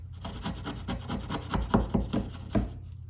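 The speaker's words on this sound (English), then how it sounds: "I can then finish off the cut with a pull saw and clean up the corners with a chisel" Pull saw finishing a cut in a maple board for a toy table, heard as steady, evenly paced rasping strokes close by, growing slightly louder toward the end, with no talking.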